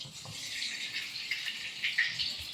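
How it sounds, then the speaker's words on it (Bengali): Mustard oil pours into a hot kadai set up for chickpea ghugni, a soft continuous hissing, trickling sound with light metallic rattles, close and fairly quiet, no voices. "সরিষার তেল দিয়ে দেবো।"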